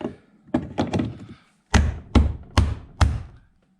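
A door latch part being banged into place on a VW Golf 4 car door: a few quick lighter knocks, a pause, then four evenly spaced, heavier thuds, close and dry.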